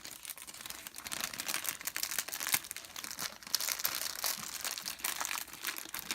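Close, continuous crinkling and rustling of a plastic packet from a Kracie Popin Cookin Japanese DIY candy kit as it is folded down, dense irregular crackles with no talk.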